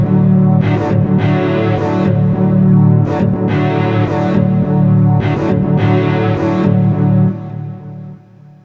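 Sustained KORG Wavestate synthesizer chords with a wide, shimmering chorus and echoing delay and reverb, crisp percussive hits over the top, then a soft reverb tail fading out.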